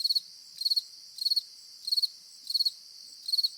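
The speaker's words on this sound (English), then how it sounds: "I can hear crickets." Crickets chirp in steady, evenly spaced bursts of rapid high trills, repeating about every second against a silent background.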